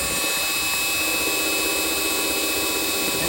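An air conditioner compressor that is extremely low on refrigerant runs with a loud, steady mechanical drone and hum, heard close up and continuous with no voices.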